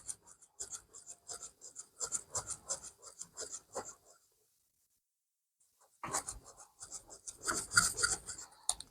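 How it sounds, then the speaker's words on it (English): Shoe-cleaning rub worked across a Levi's shoe in short, quick back-and-forth scrubbing strokes, close and fairly quiet, stopping for a couple of seconds before a firmer, harder burst of rubbing. "Give it a few rubs."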